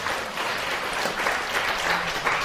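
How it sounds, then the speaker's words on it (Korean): A church congregation claps together during a Korean-language sermon, a steady, dense wash of many hands that holds evenly for the whole stretch with no pauses. "우리 박수로 하나님 앞에 영광을 올려드려야 됩니다."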